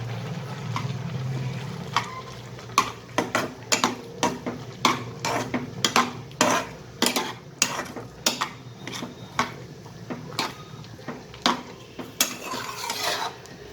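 Carrot halwa stirred in a metal pan after milk powder is added, with a spoon scraping and clinking against the pan in a steady, close rhythm.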